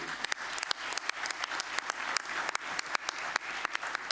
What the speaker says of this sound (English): Can we clap hands for him?